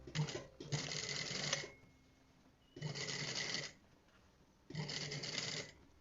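A sewing machine stitches a narrow understitch seam along a garment facing in three short bursts of rapid whirring, separated by brief quiet pauses.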